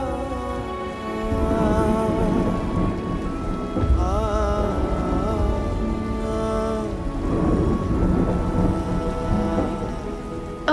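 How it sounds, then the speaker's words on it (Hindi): Heavy rain pours steadily at night with thunder rumbling through it, a loud continuous wash of downpour layered under a tonal musical score with no voices. "बारिश भी बहुत हो रही है"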